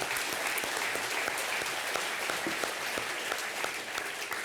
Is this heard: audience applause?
yes